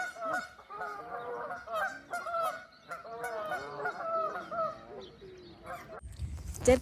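Several geese honk loudly and repeatedly in a noisy, overlapping squabble close by, ending in a rustling scuffle.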